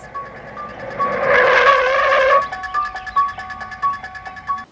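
Michael Myers' car in the Halloween film pulling away, a rising engine surge and tire noise that peaks, then cuts off, while a steady high electronic tone pulses through the whole stretch.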